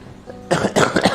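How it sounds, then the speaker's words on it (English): One person recovering from inguinal hernia surgery coughs a few times in quick succession, close and loud, after a brief quiet moment. "Oh, this is the bit that hurts. If I cough."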